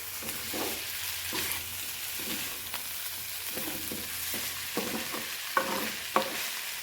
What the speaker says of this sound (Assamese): এতিয়া মই মাংসখিনি লৰাই দি আছোঁ